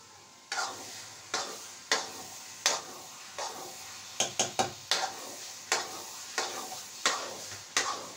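Grated carrots being stirred and roasted in a pan for carrot halwa, a quiet background sizzle broken by regular scraping strokes of a spoon, about a dozen, with a quick burst midway.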